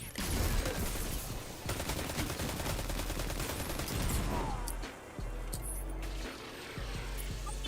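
Sustained bursts of rapid gunfire and blasts in the video game Destiny 2, loud and dense at first, then thinning to scattered sharp shots.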